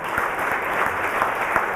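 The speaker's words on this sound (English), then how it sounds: "let's give them a round of applause" A crowd applauding, steady dense clapping that stays loud and even for a couple of seconds.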